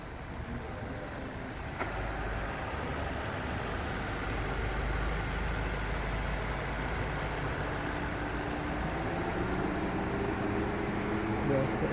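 A Hyundai Tucson engine idles in a low, steady drone for the whole stretch, with a faint click near the start and the fan-like hum of the air conditioning layered over it.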